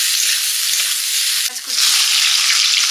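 Whole cloves and cardamom dropped into hot oil: a loud, dense sizzle fills the whole clip, dipping briefly near the middle as a muffled voice murmurs, then surging back.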